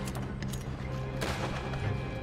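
A gunshot in the Red Dead Redemption 2 video game: a single sharp report partway through, sitting over a dense, steady game soundscape, with no talk.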